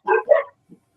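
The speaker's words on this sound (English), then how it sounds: "when the dogs bark." A dog barks twice in quick succession, close and loud, followed by a short, faint yip.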